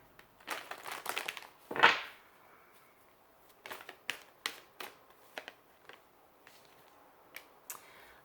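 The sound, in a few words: handling and shuffling Archangel tarot cards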